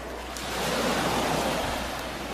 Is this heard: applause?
no